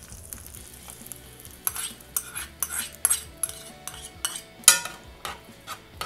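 A spoon scrapes and clinks around a pot of white pumpkin (winter melon) avial in irregular bursts, with one sharp metallic knock near the end over a soft sizzle. Nobody speaks.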